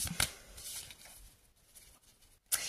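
A tarot card slides and snaps from a shuffled deck in a few quick, close, crisp flicks and rustles, with quiet pauses between.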